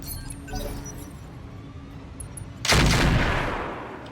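Turrets firing in the mech combat game Roguetech, a few distant booms at first and then a big loud blast followed by a long rumbling decay, with no talk.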